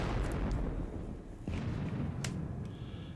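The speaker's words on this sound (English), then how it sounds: "let's start firing some guns at people." Guns fire in the Battle of Bautzen wargame, a dense rumbling barrage of distant booms with a few sharper cracks, steady and loud throughout.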